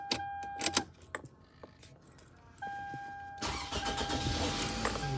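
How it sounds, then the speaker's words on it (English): A 2006 Toyota Camry sits with clicks and steady chime tones, then its engine cranks and catches into a loud, rough idle that fills the rest of the moment. "Okay, I'm gonna start the car."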